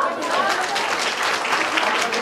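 Parents clapping at a school annual gathering and prize distribution ceremony, a dense, continuous burst of applause filling the whole moment, with crowd voices blended in.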